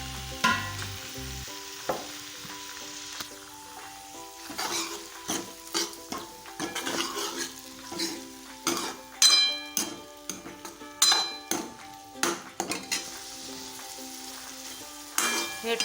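Chopped tomatoes fry with sautéed onion in a pan for dhaba-style shev bhaji: a sizzle under repeated rhythmic scraping and clinking of a spoon against the pan, loud and close, with no speech.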